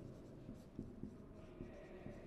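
Marker or chalk strokes on a board during an organic chemistry lecture, a series of short scratchy squeaks at an irregular rhythm, close and fairly quiet, with no talking.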